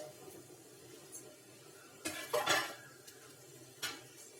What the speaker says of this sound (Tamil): இப்போ மூடியை ஓப்பன் பண்ணிக்கலாம்.